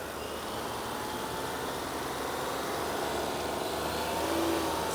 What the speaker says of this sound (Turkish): Biraz gaza basalım. 3500 devre kadar çevirecek.